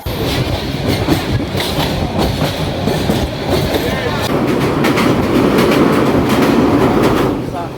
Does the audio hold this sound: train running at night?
yes